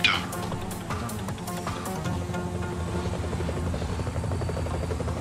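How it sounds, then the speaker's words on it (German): A helicopter closes in as an audio-drama effect, its rotor chop starting as sharp, distinct beats and building into a dense, steady whirring drone with no voices over it. "Ein Helikopter."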